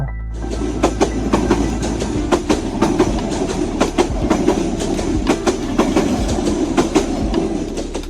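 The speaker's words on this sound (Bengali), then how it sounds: "কিছুক্ষণ পরে শুনতে পেলাম ট্রেনের হুইসেল ট্রেন আসতেছে" A train rolls along the railway line through Lawachara forest, with loud, close, rhythmic clickety-clack of wheels over rail joints and a heavy low rumble, sustained steadily throughout with no talking.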